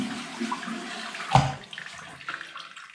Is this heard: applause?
no